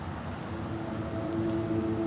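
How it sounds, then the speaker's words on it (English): A heavy rain downpour falls over a city, making a dense, steady hiss of rain on surfaces that stays constant and fairly loud for a couple of seconds, with no voices. "The downpour usually doesn't last long."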